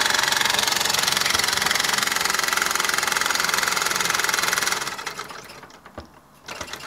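A 1972 Mamod SR1a toy steam roller engine runs with a fast, even mechanical chatter of piston and motion work, steady and close for several seconds before dropping away to quieter, uneven ticks.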